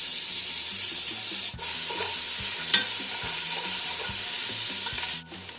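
Onion, carrot, celery and garlic sizzle steadily in melted butter in a pan, a dense continuous frying hiss broken by light stirring scrapes and two brief pauses, with no talking.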